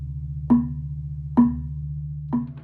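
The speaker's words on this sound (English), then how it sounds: "If you combine the gong, kampur, katuk together, they form the gila structure, and it sounds like this." A gong, kampur and katuk play together in a gila structure: three evenly spaced metallic strikes ring out and decay over a steady low sustained hum, clear and close with no voices.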